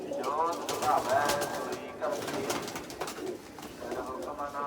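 Pigeons coo in a loft where racing birds are kept, several soft, throaty rolling calls in a row, close and fairly loud, with a voice talking alongside.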